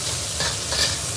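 Sichuan peppercorns and star anise stir-fried in hot oil, a short burst of close, steady sizzling with light spatula scraping and no voices.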